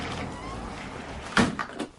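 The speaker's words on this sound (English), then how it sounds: "The door's open!" A house door opens with a sudden knock-like thump followed by two lighter clatters, fairly close, after a quiet indoor stretch.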